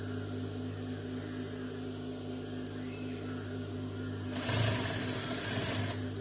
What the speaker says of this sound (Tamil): 1/2 இன்ச்சில் ஸ்டிச் பண்ணிக்கோங்க.